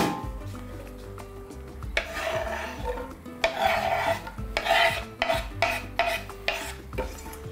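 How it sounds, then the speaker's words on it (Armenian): Onion fries in a pan for a trout and vegetable dish, giving a soft sizzle broken by close, irregular scraping bursts as a utensil stirs and rubs against the pan. "Եվ տապակում ենք սոխը։"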